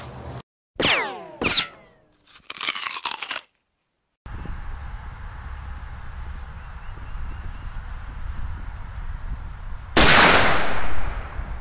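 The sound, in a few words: gunshot, Federal MK 318 Mod 0 rifle round, 7.5 inch barrel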